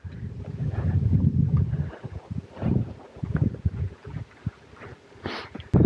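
Gusty, cold wind buffets the microphone during a bike tour, with rumbling low noise rising and falling in strong bursts.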